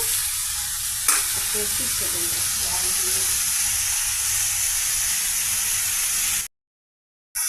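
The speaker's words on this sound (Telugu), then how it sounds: "దొండకాయ పీసెస్ ఈ విధంగా ఫ్రై అవుతున్నాయండి." Ivy gourd pieces frying in oil in a pan, giving a loud, continuous close sizzle and hiss with one sharp clink of stirring near the start, then a brief cut to silence at the end.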